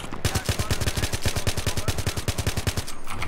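Rapid sustained automatic gunfire from an AN94 rifle in Battlefield 3 on the Canals map, a steady run of close, evenly spaced shots lasting several seconds with no speech over it.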